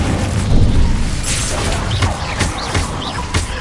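An Incendio fire spell is cast in Hogwarts Legacy, a loud roaring burst of flame with booming impacts and crackling pops, close and dense over ongoing game combat noise.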